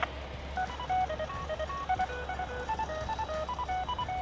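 Ham radio fox hunt transmitter sending a steady run of short beeping tones that step through different pitches in a quick, regular pattern, heard fairly faintly through radio static and low background hum.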